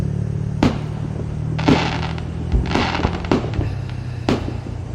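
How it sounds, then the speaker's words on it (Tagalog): Fireworks bursting at a New Year celebration, several distant sharp pops and booms spaced irregularly over a steady low rumble of background noise. "Ang dami mong makikitang mga paputok."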